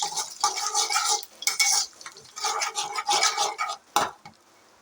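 A spoon stirs eggs with mustard seeds, curry leaves and a chili in a pan for egg rice, making close, repeated scraping strokes with a faint sizzle, then falling quiet.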